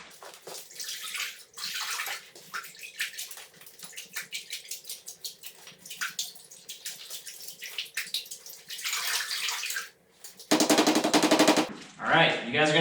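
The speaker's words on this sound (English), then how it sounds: "Going to rinse it off." Water splashing and running over a first Damascus steel billet as it is rinsed, in choppy bursts and gushes, ending in a strong steady spray and a short burst of louder splashing.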